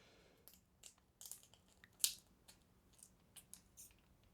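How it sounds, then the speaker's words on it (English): Faint, sparse snips and crinkles of scissors cutting open a Battle Spirits trading card pack, in short irregular bursts against near silence. "Every time I slide a pair of scissors into one of these packs"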